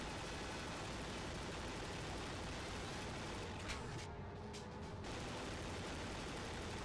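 Rapid gunfire in the video game 007: Agent Under Fire, a dense continuous barrage of shots filling the whole stretch, steady and loud with a brief thinning near the middle.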